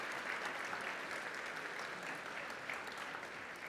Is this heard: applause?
yes